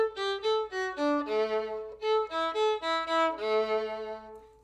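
A solo viola plays a rhythm exercise, holding the first note of each measure longer before quicker bowed notes follow, clear and close in a quiet room.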